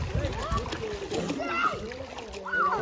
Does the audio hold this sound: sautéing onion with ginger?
no